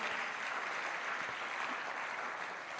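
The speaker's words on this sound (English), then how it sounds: "Give yourselves a big round of applause for being an exceptional audience." Steady, even audience clapping at the official launch of the Jamaica Legal Information Portal, sustained throughout without a break and heard somewhat faintly, as from a distance.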